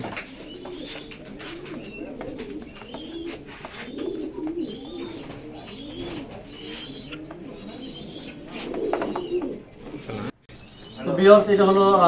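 Racing pigeons coo repeatedly in a loft, rhythmic throaty phrases close by, with scattered wing flutters and a short burst of rustling near the end.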